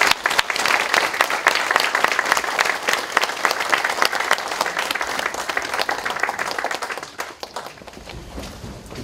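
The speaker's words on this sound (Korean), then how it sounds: "임원영 소장님 큰 박수로 맞이하겠습니다." A lecture audience welcomes the speaker at an event commemorating the Hyeongpyeongsa founding. The applause is sustained and hearty, with busy crowd clapping that stays strong for several seconds before tapering off toward the end.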